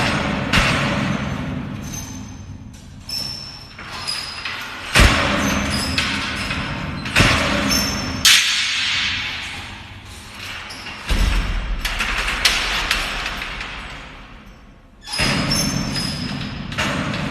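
Loosened metal pieces are pulled free during a bunker renovation, giving repeated heavy thuds, clanks and scrapes at irregular intervals.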